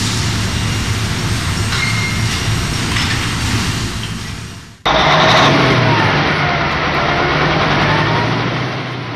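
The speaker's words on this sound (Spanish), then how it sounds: "Los sacos llenos de cemento se depositan en una serie de bandas transportadoras que los hacen llegar, a través de cargadoras automáticas, a camiones y furgones" Conveyor belts and automatic loaders carry full cement sacks toward trucks and vans at a cement plant, a steady loud mechanical rumble and whir with rattling that shifts abruptly midway into a brighter clattering drone.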